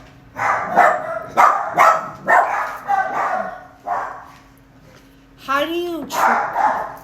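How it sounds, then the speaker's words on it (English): A dog barks in bursts several times while a person keeps talking over it, the barks close and fairly loud. "dogs!"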